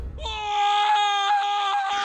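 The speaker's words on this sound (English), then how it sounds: "Okay, somebody is screaming." Shrill, sustained scream from the Just Draw video game, one high wavering wail lasting about two seconds, loud and close.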